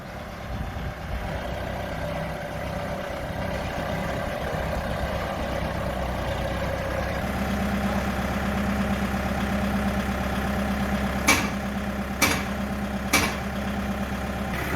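A Kubota M6040 tractor engine idles steadily during a test, a loud, close diesel rumble. The tone shifts slightly midway, then three sharp knocks or clanks punctuate the final seconds.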